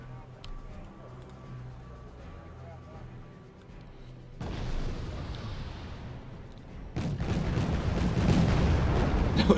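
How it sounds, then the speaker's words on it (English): Napalm strike hitting tanks in Wargame AirLand Battle, a deep booming roar that swells in two surges and keeps building to a loud rumbling blaze, with someone talking over the quieter start. "Napalm once again on the tanks."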